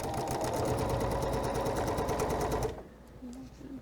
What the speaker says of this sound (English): I'm going to sew a background square to each